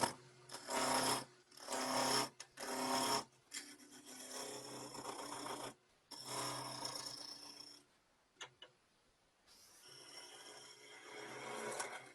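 A skew chisel peels shavings from wood spinning on a lathe, giving repeated bursts of rough, scraping hiss separated by short gaps, fairly close.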